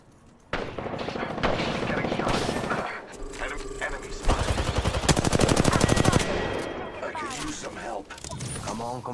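Gunfire in the battle royale video game Apex Legends erupts in rapid automatic bursts and single shots, loud and close, with bursts returning in rhythmic volleys between short gaps.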